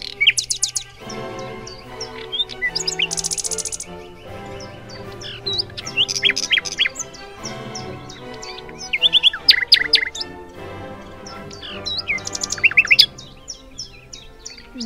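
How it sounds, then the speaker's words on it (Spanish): Songbirds chirp and tweet in repeated bright bursts of quick notes over a steady musical backing, some calls loud and close, others softer, with short pauses between phrases. "mis pajaritos que nos traen sus bellos cantos"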